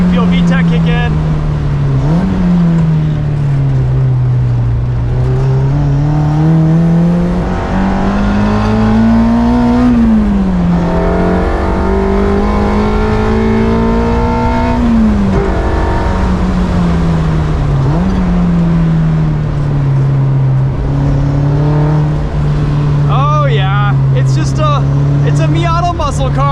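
A K24-swapped Mazda MX-5 Miata engine drones loudly from inside the car, its pitch climbing in several pulls as VTEC engages and easing back between them.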